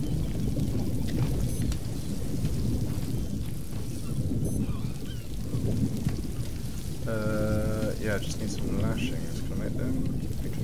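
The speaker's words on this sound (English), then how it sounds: "it was just the sound of when you go in the water" In the video game Stranded Deep, going into the water brings a continuous rushing, splashing wash that sounds like heavy rain. A short tonal chime rises partway through.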